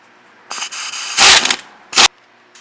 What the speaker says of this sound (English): another reason I use the air ratchet because these have Loctite on them and the resistance is stupid.